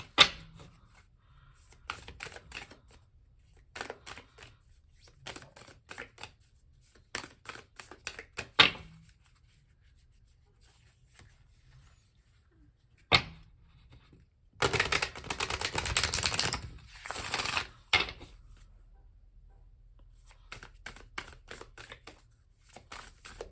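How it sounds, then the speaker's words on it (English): Tarot cards are shuffled by hand in short, soft tapping and riffling bursts, then a longer dense rush of card noise near the middle, with quiet gaps in between. "shuffle once more and then I'll cut the deck here."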